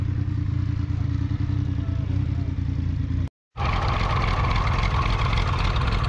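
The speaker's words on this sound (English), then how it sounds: "The P6 is purring away there, ticking over, ready for this adventure." A 1949 Fordson P6 Major tractor idles at a Scottish agricultural show, its engine ticking over in a steady, close, continuous drone that cuts out briefly before resuming with a brighter, fuller tone.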